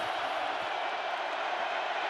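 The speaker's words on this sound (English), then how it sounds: "Crowd roaring." A stadium crowd at an NFL football game between the Chiefs and Seahawks keeps up a dense, steady roar, broad and sustained throughout without breaks.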